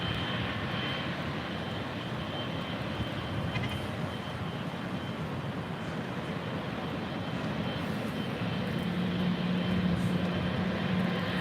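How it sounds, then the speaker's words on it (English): A Cathay Pacific Boeing 777-300ER departing LAX for Hong Kong rumbles with a heavy, sustained jet engine roar, steady and loud for the whole stretch with a slight swell near the end. "Cathay Pacific to 777-300ER heading back to Hong Kong."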